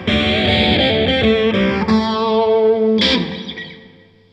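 An electric guitar played through a Korg Pandora Stomp multi-effects unit on its Paralyze preset and an amp rings out distorted, chorused sustained notes and chords. A brief strum near the end decays into silence.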